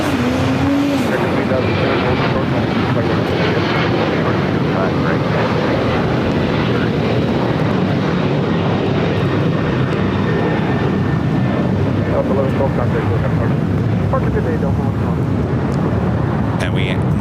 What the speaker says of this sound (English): we never talk over the takeoff